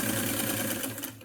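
A sewing machine stitches across a fabric face mask in a short, fast, close mechanical whir.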